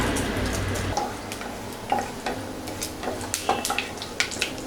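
Mustard seeds crackle and pop in hot sesame oil with urad dal, a steady dense sizzle broken by scattered sharp pops and ticks, close by and without any talking.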